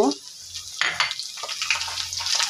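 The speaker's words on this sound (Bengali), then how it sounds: "পেঁয়াজ রসুনটা লাল করে ভেজে নেব। কিছুটা লাল করে ভেজে নেওয়া হয়ে গেছে।" Onion and garlic sizzle in hot oil with chili being added, steady crackling frying broken by short stirring scrapes, close and fairly loud, with no one talking.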